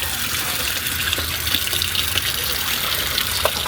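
Water gushes steadily from a tap for laundry rinsing, a close continuous splashing rush.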